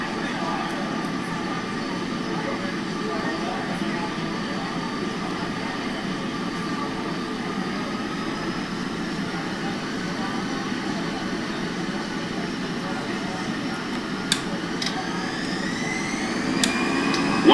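EasyJet airliner engines at takeoff thrust, a broad steady roar heard from inside the aircraft cabin, constant and loud throughout with a few faint clicks near the end.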